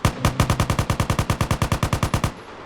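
Rapid automatic gunfire from the GTA San Andreas video game, a steady burst of about twenty evenly spaced loud shots over two seconds, then an abrupt stop with a faint ring-out.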